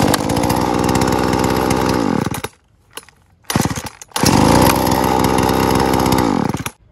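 A Husqvarna 236 chainsaw engine with a freshly adjusted carburetor revving loudly up close, two long high-pitched bursts cut by a short idle drop and a brief blip between them.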